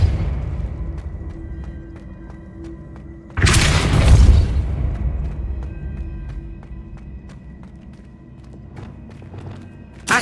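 A Depulso spell cast in Hogwarts Legacy, a sudden loud whooshing boom with a heavy low thud that rings out over a few seconds, amid quieter footsteps and ambient game sound.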